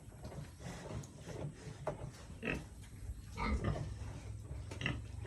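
A large pig on a farm grunts repeatedly in short, irregular bursts, fairly close but quiet, with shuffling and rustling noises between the grunts.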